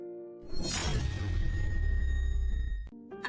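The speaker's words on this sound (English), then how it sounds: "Sound of cup smashing." A porcelain cup smashing, an abrupt bright crash with a ringing, scattering tail that lingers over a low rumble for a couple of seconds, heard as a dramatic sound effect.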